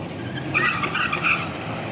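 C7 Corvette with something poking out of the hood, launching off the line at a quarter-mile drag strip, a brief loud roar with tire chirp, steady engine noise filling the moment.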